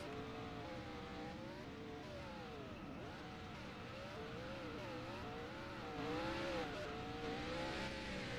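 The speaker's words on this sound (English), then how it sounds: "We'll let Top continue to do their burnouts." Race cars doing burnouts in a racing video game, engines revving up and down in repeated wavering surges with tire noise, a moderately faint, continuous roar and no talking.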